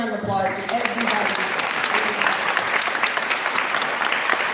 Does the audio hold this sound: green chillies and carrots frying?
no